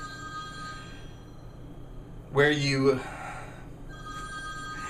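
A phone rings in a kitchen during chicken stock preparation, one short bright burst of ringing about half a second long that cuts in over a person talking.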